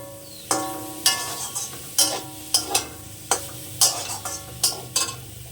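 Pumpkin leaves being stirred and fried in a pan, with a steady sizzle broken by a series of sharp scraping and stirring strokes roughly every half second, close and fairly loud.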